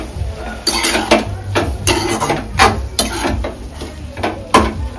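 Leafy greens stir-fried with salt in a pan, a spatula scraping and tapping against the metal in irregular strokes over a low sizzle, close and alone without talk.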